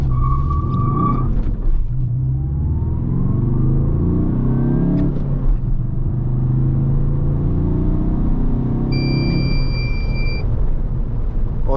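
Skoda Octavia RS with a 2.0 TDI diesel (184 hp, 390 Nm) pulling hard from about 2500 rpm, a loud, steady low engine roar that rises in pitch through the run, close up and without talk.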